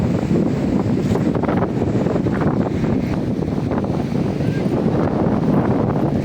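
Gusts of strong seaside wind near Diu roar steadily across the microphone, loud and unbroken, while crashing waves blend into the dense low rumble; nobody speaks.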